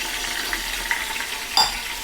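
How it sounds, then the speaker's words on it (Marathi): Bitter gourd cooking in a pan sizzles steadily as water is poured over it for steaming, with a sharper, louder hiss bursting up near the end. "आपण ह्यावरती असं पाणी टाकूया"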